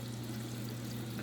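Water from a fish tank's inflow pours and splashes steadily into the tank, a continuous close rush over a low pump hum.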